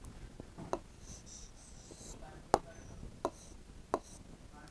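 A pen writes the Urdu word gajra by hand on paper, faint scratchy strokes with a few sharp taps as the pen touches down, quiet and close with no talk.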